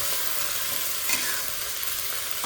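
Stirring a pot of spicy boiled noodle soup full of mixed vegetables, a steady bubbling hiss with one brief scrape of a utensil near the middle, no speech.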